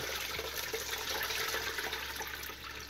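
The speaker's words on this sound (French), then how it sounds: "Je passe de l'eau comme ça." Tap water pouring steadily through a colander of beans being washed, a continuous close rushing splash with no break and no voices.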